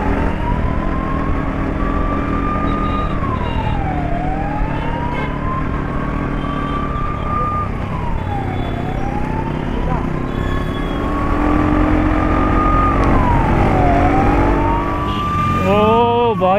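An ambulance siren wails steadily through light road traffic, its long rising and falling sweeps repeating over a constant engine and road rumble, with a brief faster yelp pattern at the end.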